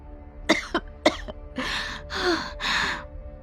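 A few sharp coughs, then three longer raspy, breathy hacks in a row, close and fairly quiet, with no talking.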